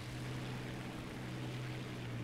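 A steady, droning propeller-engine hum from a failing I-16 fighter in War Thunder, a low continuous buzz with no breaks, fairly quiet and alone.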